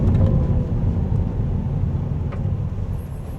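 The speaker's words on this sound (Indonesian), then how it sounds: "Ini lebih masuk sih suara engine-nya." Steady low engine rumble with road noise from inside a moving Toyota Veloz Hybrid, continuous and fairly loud, no talking.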